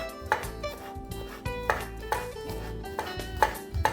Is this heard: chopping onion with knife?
yes